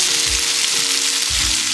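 Chopped potatoes and onion, seasoned with salt and all-purpose seasoning, fry in avocado oil in a pan with a loud, steady sizzle and occasional low stirring scrapes.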